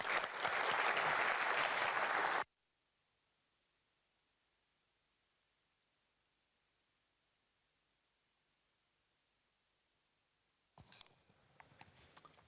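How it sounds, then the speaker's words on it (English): A short burst of audience applause at an electric superbike design reveal, loud and dense for about two seconds before cutting off abruptly to near silence, with faint scattered sounds returning near the end. "give them a well-deserved round of applause"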